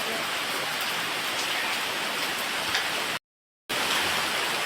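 Heavy rain pours down steadily in a dense, hissing roar, broken once by a brief moment of total silence before the downpour resumes.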